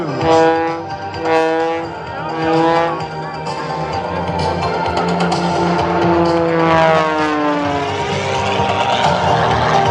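Sean D. Tucker's Oracle Challenger 3 aerobatic plane performs at the NAS Jax airshow in 2014, its engine a loud droning whine that swells and bends in pitch as it swoops past, heard alone.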